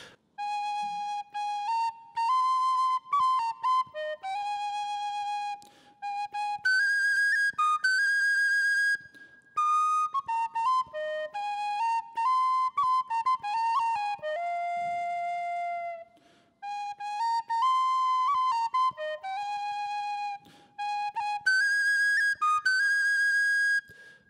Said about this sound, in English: I'm going to try an air on the whistle now